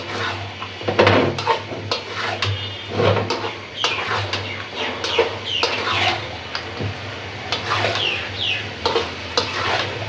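Chicken sizzles in a hot pan under irregular stirring and scraping of a spatula against metal, with a low steady hum beneath.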